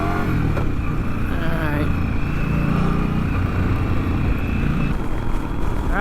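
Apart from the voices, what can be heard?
Indian Scout Rogue motorcycle engine accelerating on freeway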